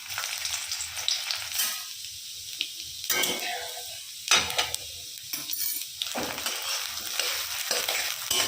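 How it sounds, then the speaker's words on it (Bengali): Chopped ginger and garlic fry in hot oil with a crackling sizzle, broken by sharp stirring clatters against the pan. "তেল অলরেডি দিয়ে দিয়েছি, এবারে দেবো এই যে আদা রসুন কুচি"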